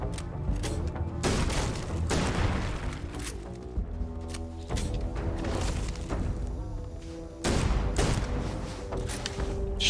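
Rapid gunfire and booming blasts from a firefight in the video game Starfield, with dense bursts of shots and thuds running loud and continuous throughout.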